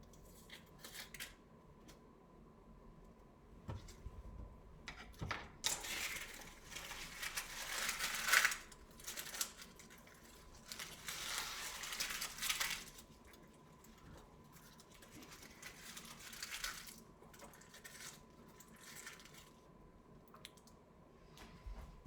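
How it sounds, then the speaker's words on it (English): Outer skin being peeled off an onion by hand: close, dry crinkling and tearing rustles in uneven bursts, with scattered small clicks and taps in between. "Our onion outer layer has been peeled away."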